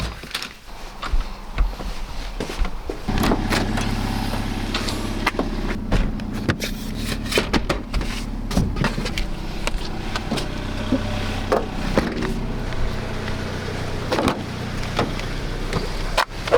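Car sounds continue for several seconds: doors and small mechanical clunks as things are loaded, then a steady low engine hum with scattered knocks and rattles, close by and without speech.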